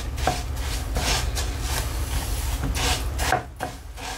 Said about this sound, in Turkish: Şimdi önce tuzu ilave ediyorum. Ve onu da karıştırıyorum.